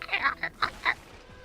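A cat hiding under a desk chatters at a bird on a rooftop across the way, giving a few short, nasal quacking chirps in quick succession, close and fairly loud.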